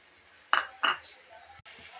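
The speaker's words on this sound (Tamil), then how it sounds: "இப்போ நம்ம துருவி எடுத்து வச்ச சுரைக்காய் 1 கப் ஆட் பண்ணிக்கலாங்க" Grated bottle gourd drops into a cooking pan with two quick clinking knocks, a metal-on-pan scrape and a brief soft sizzle, close and fairly faint.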